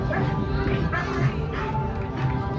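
Army canine unit dogs bark and yip in quick repeated bursts close by, mixed under ongoing speech and some hoof-like clopping.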